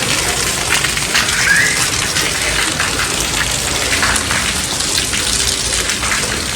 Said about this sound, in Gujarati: વરસાદની પણ મજા લઈ લઈએ